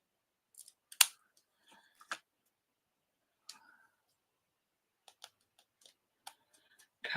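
Paper being cut with scissors on a desk: a few sharp snips scattered across the span with quiet gaps between, close and fairly crisp, with no talking.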